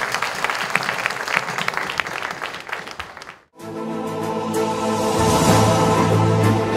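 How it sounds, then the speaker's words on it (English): An audience at a panel discussion on the shipping industry claps in a dense, lively burst that cuts off abruptly, followed by a steady droning sound. "a round of applause for you"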